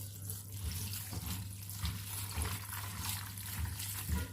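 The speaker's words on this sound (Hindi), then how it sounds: "ठंडा पानी डालेंगे।" Cold tap water runs steadily over freshly boiled, drained pasta in a kitchen sink, a continuous splashing rush with a low hum beneath it.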